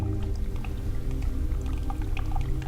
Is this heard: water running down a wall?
yes